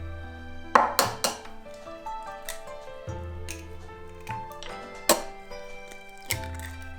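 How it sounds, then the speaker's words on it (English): Eggs being cracked into a bowl for Chinese steamed eggs, a few sharp knocks and clicks spaced several seconds apart over quiet background music. "Let's break the eggs into the bowl"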